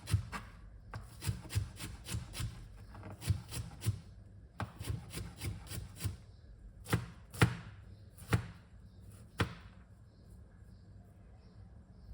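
A knife chops spring onion on a board for Jamaican saltfish fritters, with steady rhythmic blade taps in quick runs and pauses, close and crisp, with a voice faintly in the background.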